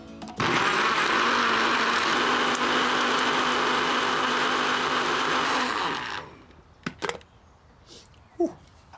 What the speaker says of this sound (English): Throw it in a blender and you're done.